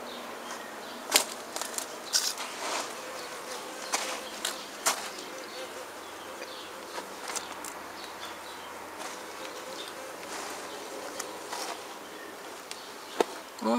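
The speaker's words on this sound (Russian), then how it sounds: "Вон пчелки уже полетели" Bees fly around flowering primulas in a garden, their faint buzzing passing with scattered rustles and clicks, quiet and outdoors, with soft talk now and then.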